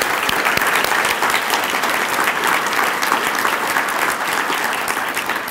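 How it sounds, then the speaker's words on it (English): A large crowd applauds steadily and loudly, the clapping thick and continuous for the whole stretch, tapering only slightly at the end. "One more round of applause for him, please."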